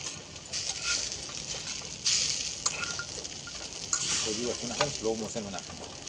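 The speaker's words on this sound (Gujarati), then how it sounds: "હવે આપણે તેમાં વટાણા ઉમેરીશું તો આ ફ્રેશ વટાણા છે" Steady sizzle of fresh green peas frying in ghee in a pan for a village-style fresh turmeric sabzi, with scraping and stirring strokes throughout and a faint voice in the background.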